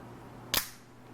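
A Mikov Predator 241 leverlock automatic knife with a plastic handle and dagger-style blade snaps open, making a single sharp, close click that fades quickly, with no talking.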